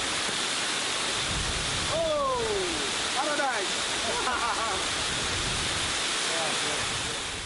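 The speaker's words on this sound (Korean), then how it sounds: "공기 좋고 물소리도 좋고." Water pours steadily at Tekaan Telu falls, a waterfall on a volcano, making a broad, constant rushing roar that fills the scene, with a voice briefly speaking over it.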